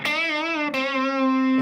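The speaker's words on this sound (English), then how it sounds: "guitar going into distortion in an amp" Electric guitar fed through a distortion pedal into a 50-watt tube amp, one loud sustained distorted chord ringing thick and buzzy, briefly re-struck midway and held steady to the end, with no voices.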